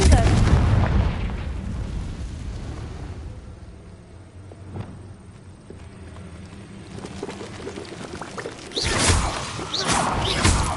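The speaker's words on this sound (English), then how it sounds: "Confringo!" A Confringo fire spell blasts in Hogwarts Legacy, giving loud booming explosions at the start and again near the end, with quieter rumbling battle sounds between.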